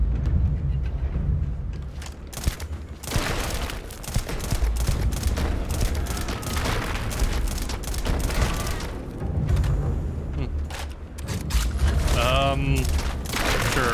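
Shotgun blasts in the sci-fi video game Starfield, repeated booming shots mixed into dense combat noise and music, steady and loud throughout.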